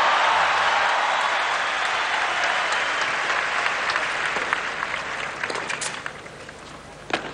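A stadium crowd of about 20,000 on its feet in a standing ovation, loud sustained applause that thins slightly toward the end with scattered sharper claps.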